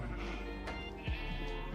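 Sheep in the video game Minecraft let out a couple of soft, quiet bleats against a faint background, with no talking.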